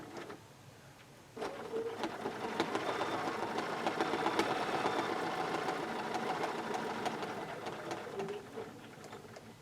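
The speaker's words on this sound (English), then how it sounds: "And now I'm going to stitch up to the next line." A sewing machine stitches steadily during free-motion quilting with a ruler foot, its fast mechanical whir and tapping needle starting after a short pause and running continuously, close and moderately loud.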